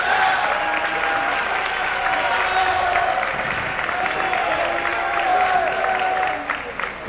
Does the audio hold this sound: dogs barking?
no